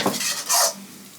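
Chicken fried rice being folded in a pan, a couple of quick scraping stirs with a brief louder sizzle burst, close and short.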